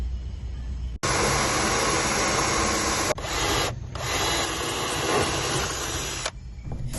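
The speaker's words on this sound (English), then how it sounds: "Tawanda, let's drill any one of those holes if you're happy with them." A power drill drills holes, running loud and steady in long bursts, briefly stopping and restarting several times.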